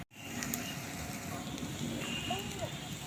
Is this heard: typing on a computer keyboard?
no